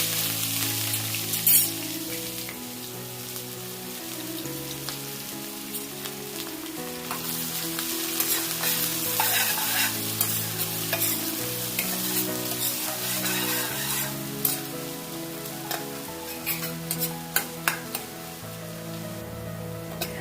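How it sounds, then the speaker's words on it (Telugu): Thinly chopped onions sizzle steadily in hot oil with shahi jeera and a bay leaf, a dense, even crackle with occasional stirring, close and continuous with no voices. "ఆనియన్స్ అయితే ఫ్రై అవుతున్నాయి కదండి"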